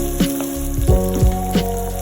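Stink beans (pete) and tempeh sizzle loudly in a hot frying pan while being stirred, steady crackling frying broken by several scraping stirs close by.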